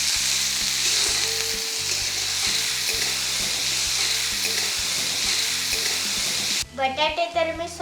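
Asafoetida and onion fry in hot oil with a little salt while a potato bhaji is being cooked, giving a loud, steady sizzle close up. A burst of clattering or stirring comes near the end.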